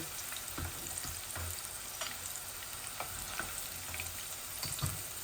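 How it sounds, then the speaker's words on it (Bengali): Chicken pieces sizzle in a hot pan while being stirred, a continuous close frying hiss punctuated by regular scraping clicks of the utensil, with no voices. "আর শুধু চিকেনটা বুনতেছি।"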